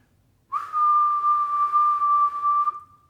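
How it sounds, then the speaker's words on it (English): A single person whistles one sustained, steady mid-pitched note, close and clear, holding for about two seconds before trailing off. "So go ahead and whistle if you can. Something like this."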